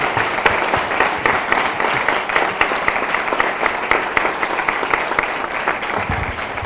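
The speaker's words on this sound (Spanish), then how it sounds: "quería darle un aplauso." An audience at a book presentation gives warm, continuous applause, dense even clapping close by with little talk beneath it.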